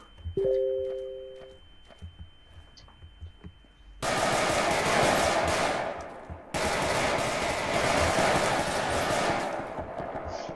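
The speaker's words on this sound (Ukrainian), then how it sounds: "То свої стріляють" Bursts of rapid gunfire fill the scene, dense and loud, with a brief gap before another sustained volley of shooting and grenades, combat in a war video game.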